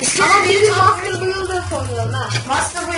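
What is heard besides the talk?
No distinct noise like a dog, phone or traffic.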